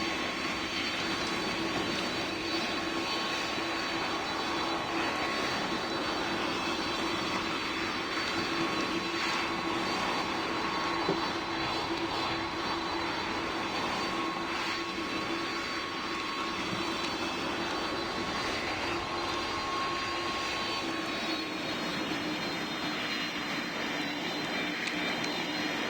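An Airbus A320neo jet arrives in the Roblox PTFS flight game, a steady droning engine whine with a faint high tone, constant and fairly loud for the whole stretch.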